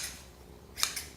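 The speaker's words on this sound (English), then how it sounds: "Next, you're going to use your scissors to cut up some cilantro." Kitchen scissors snip fresh cilantro in two quick, crisp cuts close by, alone in a quiet room.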